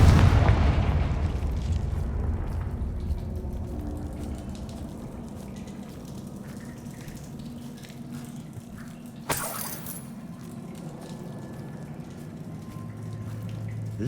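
A Confringo fire spell blast from the Hogwarts Legacy video game lands as a heavy, booming burst at the start, then rumbles down into a low roar, with a second sharp crack and swell partway through.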